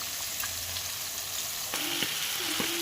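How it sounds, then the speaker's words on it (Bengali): Fish sizzling as it fries in a pan at home, a steady broadband hiss with a few brief stirring or utensil clinks toward the end. "আর এই যে এখানে মাছটা ভাজা বসিয়ে দিলাম"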